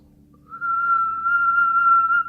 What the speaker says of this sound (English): when I whistle